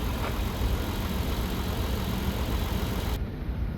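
A naturally aspirated 3.7-liter V6 in a 2017 Lincoln MKX runs steadily at close range, a broad, even engine hum with no talk, cut off abruptly near the end.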